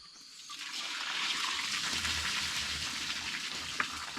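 Steady rain falls continuously as a dense, even hiss of drops on surfaces, close and moderately loud with no talking.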